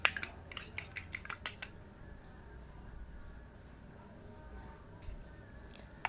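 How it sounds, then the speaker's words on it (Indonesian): A utensil whisks eggs in a bowl with a quick series of light, rhythmic clinks against the side, then a softer, quieter stirring. "Telurnya mau saya kocok terlebih dahulu."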